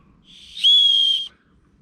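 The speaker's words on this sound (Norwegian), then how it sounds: "Da har vi tennstål der og en fløyte." The small whistle built into the fire steel of a Leatherman Signal multitool gives one clear, shrill blast of about half a second, blown gently and heard alone at close range.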